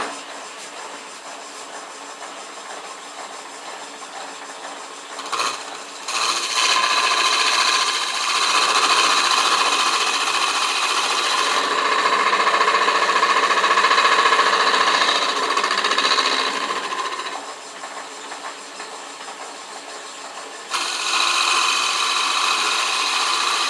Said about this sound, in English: take my lathe duplicator table and the cutter here and use that